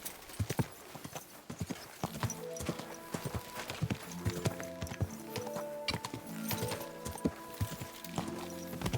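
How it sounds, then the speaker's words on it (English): Horse hooves clip-clop steadily in Kingdom Come Deliverance 2, a medieval role-playing game, as a mount passes close through a crowd, with a brief whinny and harness clatter mixed in; the rhythmic hoofbeats stay prominent throughout. "Watch out with that horse!"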